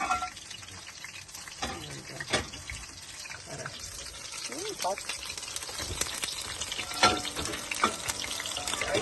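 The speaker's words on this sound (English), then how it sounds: "And she's frying some." Food sizzles and crackles in a pan with scattered clinks of utensils, while a person talks now and then over the cooking.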